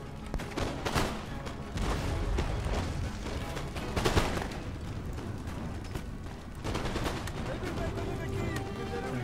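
Grenadiers' musket volleys crackle in Empire Total War during a defence of Athens, a dense run of overlapping shots and booms that stays loud throughout, with a voice speaking over the battle.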